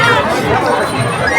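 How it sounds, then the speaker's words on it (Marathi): Dense crowd at a Khandoba temple fair, a steady close babble of many voices with footsteps and bustle filling the short stretch without pause. "बघा गर्दी किती गर्दी आहे."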